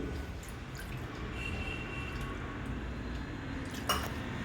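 Three ladles of water pour into ground rice batter for appam, a continuous close trickle with a brief metallic clink near the end and no talking.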